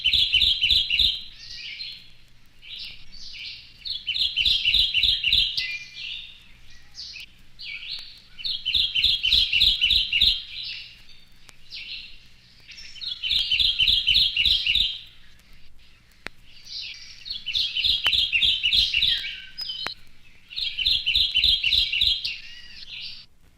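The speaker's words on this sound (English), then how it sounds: "The song of the Kentucky warbler is a two-note phrase repeated about 6 times." Kentucky warbler song, a loud, clear two-note phrase repeated rapidly in bursts of several notes, recurring about six times in a row with short pauses between, with no talk present.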